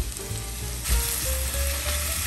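Mushrooms frying in a meatloaf baking pan make a loud, dense, continuous sizzle heard up close, unbroken across the whole stretch, with no talking.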